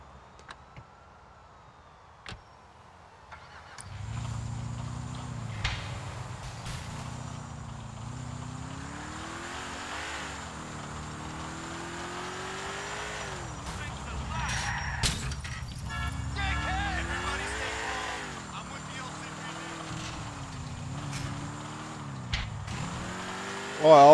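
A car in GTA IV drives with a continuous engine drone that rises and falls in pitch as it revs and shifts, with brief crashes, and someone talks over it.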